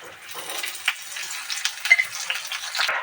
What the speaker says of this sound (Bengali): কিছুক্ষণ নাড়ার পরে এটা দিয়ে দিলাম চার পাঁচটা লঙ্কা কুচি